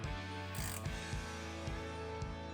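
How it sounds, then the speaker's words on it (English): A 13mm wrench tightening M8 lock nuts on studs, rapid close ratcheting clicks in quick repeated bursts, faint and without speech. "Secure them with a 13mm wrench until snug."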